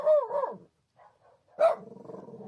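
A dog barks indoors in carpeted rooms, one loud growly bark, a pause with faint sounds, then a second bark trailing into a rough rapid growl, close by with no talk.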